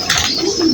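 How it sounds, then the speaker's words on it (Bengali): Pigeons being hand-fed paddy give a brief, close cooing burst with no one talking. "এই যে একটি কবুতর হাতের কাছে চলে আসছে, হাত থেকে ধান খেতে"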